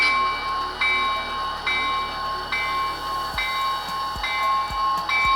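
Locomotive bell ringing on an SD40-2 during yard switching, a steady clanging strike under a second apart, fairly close, with low engine rumble beneath.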